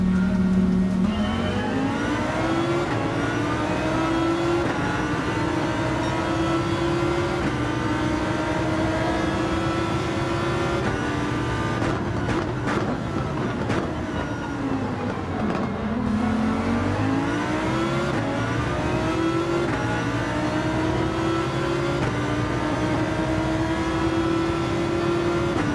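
Race car engines roaring continuously during a Gran Turismo 7 race at Fuji, a loud sustained whine that rises and falls with gear shifts and braking, with several cars running close together throughout.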